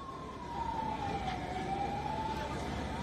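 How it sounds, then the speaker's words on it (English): An ambulance siren wails at the site of a bomb blast in Sri Lanka, one slow wavering tone that is moderately loud and near. A low road rumble runs steadily beneath it. "Number of ambulances have just arrived."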